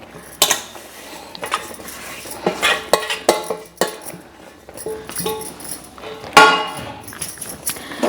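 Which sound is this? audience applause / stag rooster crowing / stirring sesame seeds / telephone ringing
stirring sesame seeds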